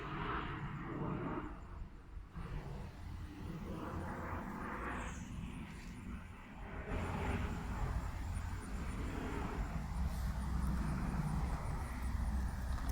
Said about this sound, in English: there's a lot of noise from the planes overhead